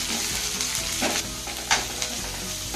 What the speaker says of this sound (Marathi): आणि ह्या देखील परतून घ्यायच्या आहेत।